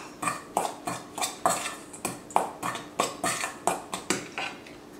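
Ingredients for homemade bread being mixed in a bowl with a utensil, producing steady rhythmic clinks and scrapes about three per second, close and fairly loud, with no talking.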